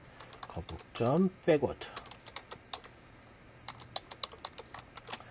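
Quick bursts of computer keyboard typing as turtle-graphics commands are entered, close and crisp, with a short spoken phrase over a burst of keystrokes and scattered single clicks afterward.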